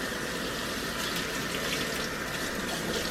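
Hot water runs steadily from a kitchen tap for cleaning up after preparing chicken, a continuous close rushing hiss with no talk over it.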